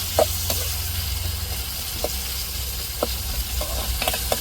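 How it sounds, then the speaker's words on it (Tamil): Tomato and onion sauté with curry leaves in a pan, making a steady low sizzle with a few faint, scattered clicks of a stirring spoon, close and continuous with no talking. "தக்காளி வெங்காயமும் நல்லா வதங்கணும் வதங்கிக்கிறட்டும்"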